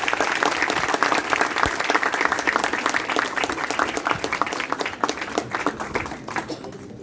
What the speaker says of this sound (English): Students, please welcome sir with a huge round of applause.